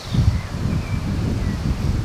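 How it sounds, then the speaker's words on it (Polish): Gusty wind buffets the microphone outdoors in a forest at night, a low, rumbling rush that rises and falls continuously with faint rustling in the background. "Przeginka z tym wiatrem jest."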